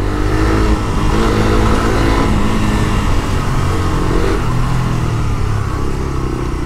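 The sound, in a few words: Suzuki Gixxer 150 motorcycle riding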